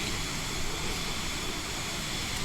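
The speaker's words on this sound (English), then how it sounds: "Loud and deadly out there in the Vision Jet." Cabin of a Cirrus Vision Jet cruising at 30,000 feet, a steady, loud broadband rush of engine and airflow noise that holds evenly throughout, with no speech.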